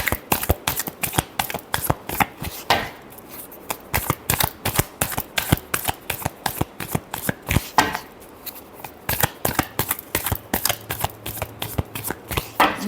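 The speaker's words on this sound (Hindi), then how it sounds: "Last shuffle." A deck of tarot cards is shuffled up close: rapid, sharp riffling snaps repeat in a steady rhythm, with two brief pauses between bursts.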